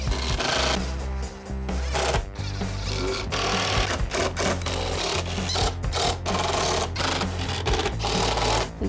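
A drill drives pocket screws into scrap wood 2x4s while building a workbench, a loud, continuous motor whine close by with brief stutters and dips as the screws seat.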